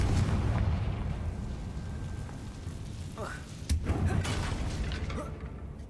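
A Confringo fire spell from Hogwarts Legacy bursts as a dull boom through dense, rumbling game noise, with a sharper crack about midway and a steady loud wash throughout.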